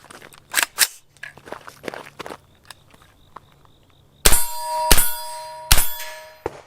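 A PSA AR-V rifle fires several sharp, loud shots in bursts, some followed by ringing metallic pings like steel targets being hit, with quieter clicks and clanks between.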